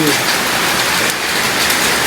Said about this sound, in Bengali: ভাই রে ভাই, কি বৃষ্টিটাই না হচ্ছে।